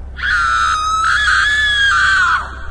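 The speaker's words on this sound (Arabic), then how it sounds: "صوت صريخ جاي من آخر المزرعة لبنت" A girl screams from the far end of a farm at night: one long, shrill, sustained cry lasting about two seconds, loud and unbroken, with no talk over it.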